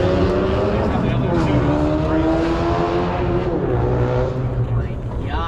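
Engines rumble loudly throughout at a busy outdoor car meet, a revving pitch that rises and falls continuously under the crowd's steady chatter and voices.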